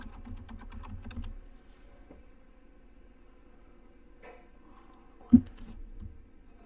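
Someone types a command on a computer keyboard, a quick run of close, faint key clicks at the start followed by scattered soft taps and one sharper knock in a quiet room.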